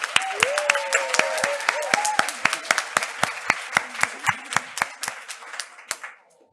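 An audience claps for a young speaker at an HIV treatment talk: steady, fairly sparse applause with distinct individual claps lasting about six seconds, while someone talks over it, then it stops abruptly.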